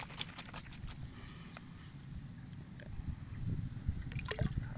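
Liquid organic fertilizer made with red ginger is shaken with E4 in a 20-litre paint bucket, giving faint, low sloshing and knocking sounds that rise slightly toward the end.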